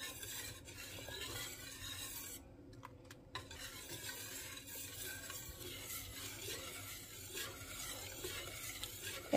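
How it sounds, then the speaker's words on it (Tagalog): Maja blanca mixture is stirred continuously in a pot, producing a soft, constant scraping and swishing at low level, with no talking. "continuous stirring"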